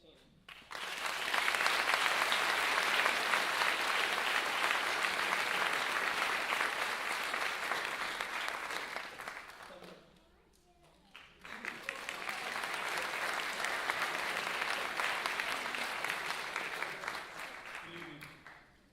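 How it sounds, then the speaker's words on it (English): Audience applause for a graduating 8th grade class of 2015, a broad steady wash of clapping that runs about nine seconds, briefly dies down, then swells again into a second sustained round. "Please give one more round of applause to the class of 2015"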